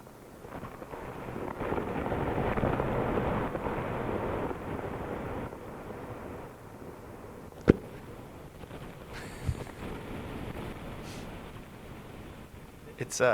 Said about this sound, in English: this very far away like kind of electrical sound